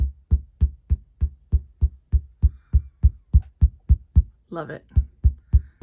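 Taut tufting cloth stretched on a Clawlab H1 Lite frame is tapped in a steady, drum-like beat of about twenty dull, close thumps, with a brief spoken remark partway through.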